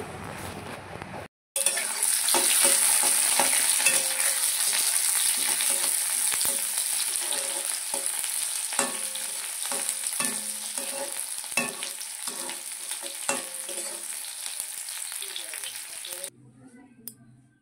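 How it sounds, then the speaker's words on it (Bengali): Chopped onions and dried red chillies fry in hot oil with a loud, steady close sizzle lasting many seconds, marked by scattered clicks of stirring before it ends abruptly. "তেল দিয়ে পেঁয়াজ কুচি দিয়ে ভালো করে একটু ভেজে নেব।"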